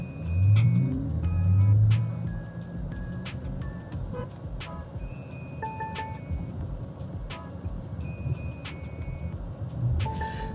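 Steady low road rumble and tire hum inside a Xiaomi YU7 moving at 70, about 65 decibels, with faint beeps and tones scattered over the continuous drone.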